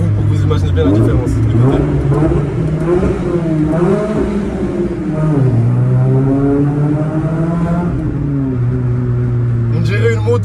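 Renault Clio RS fitted with a loud Cobra aftermarket exhaust, revving repeatedly with rising and falling engine pitch, close and loud, throaty and motorbike-like, with brief pauses between blips.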